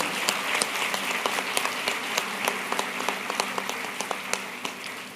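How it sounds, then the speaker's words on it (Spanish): Audience applause at a spiritual leadership seminar in Guadalajara, Jalisco, a steady sustained patter of many hands with sharper individual claps standing out, moderately loud and continuous throughout. "te damos un fuerte aplauso"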